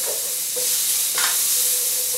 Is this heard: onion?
yes